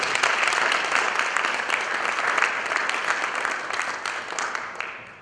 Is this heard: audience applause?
yes